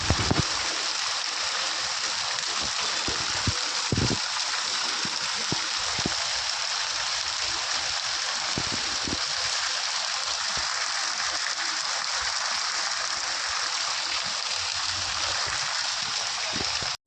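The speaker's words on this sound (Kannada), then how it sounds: "ಎಷ್ಟು ಜೋರಾಗಿ ಮಳೆ ಬೀಳ್ತಾ ಇತ್ತು ಮೋರಿ ಎಲ್ಲನೂ ಮೇಲೆವರೆಗೂ ತುಂಬಿ ಹೋಗ್ತಾ ಇತ್ತು" Rainwater rushing through an overflowing roadside drain after heavy rain, a dense, constant roar of flowing water with a few faint thumps, steady and unbroken throughout.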